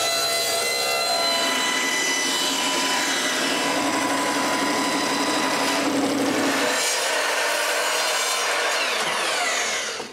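A saw cuts custom lengths from wooden roof planks for a firewood carport, a loud, steady, close rasping that runs continuously for about nine seconds, shifts tone partway through, then stops abruptly.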